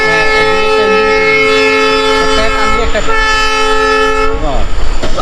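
A loud train horn blares in a long sustained tone, then cuts off as the rumble of wheels on rails continues; a hill train with two engines, one pulling at the front and one pushing at the rear.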